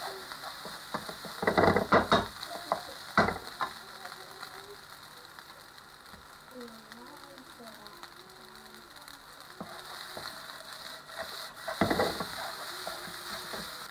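Nasi goreng, fried rice, being stirred in a hot pan: soft scraping bursts and a steady sizzle, with faint speech in the background.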